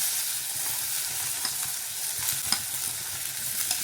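Onion dropped into hot oil with asafoetida, curry leaves, crushed garlic and turmeric hisses in a steady, bright sizzle throughout, with a few faint clicks of stirring and no talk.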